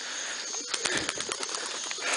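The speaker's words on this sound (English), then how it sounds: "That's a black pigeon flying around right there." A black pigeon flies around a loft yard, its wings flapping in a short run of soft, quick beats over steady outdoor hiss.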